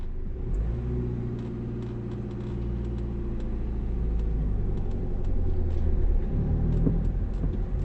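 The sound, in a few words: car engine as a learner driver starts, shifts and stops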